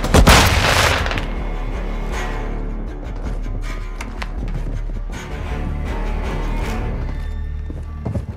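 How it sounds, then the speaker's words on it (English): Grenade blast in the video game Call of Duty Warzone, a loud boom at the start that decays into a dense rumbling tail of gunfire and explosions over the rest of the clip. "Throw a grenade!"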